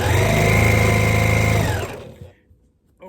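Sewing machine stitching a fabric beard mask, a steady loud whirring run of about two seconds that winds down and stops, followed by near silence and a faint noise at the end.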